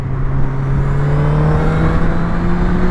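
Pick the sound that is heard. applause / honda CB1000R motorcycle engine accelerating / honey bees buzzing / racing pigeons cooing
honda CB1000R motorcycle engine accelerating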